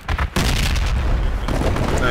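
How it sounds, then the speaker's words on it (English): Heavy quad cannon fire in Project Reality, a dense continuous roar of rapid cannon rounds and booms striking close by, loud and sustained after a brief opening pop. "We're taking quad cannon fire. Quad cannon fire on our position."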